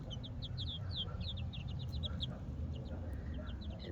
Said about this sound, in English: these little roosters are starting to crow, but they're chirping like crickets